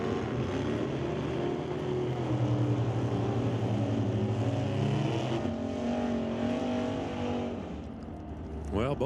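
A Pontiac Firebird and a bright red Camaro launch off the starting line in an NHRA Northwest National Open drag race, a loud sustained engine roar whose pitch climbs as they pull away, with a commentator talking over it.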